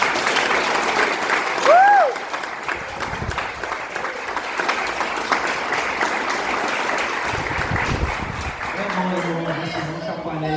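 A church congregation applauds for Jesus, sustained clapping from a crowd that carries on steadily for several seconds while a voice speaks over it and a brief whistle rises near the start.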